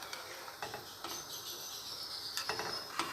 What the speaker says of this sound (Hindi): बड़े आराम के साथ आपने चावलों में चम्मच लगाना है